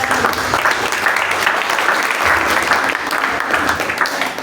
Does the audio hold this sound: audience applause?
yes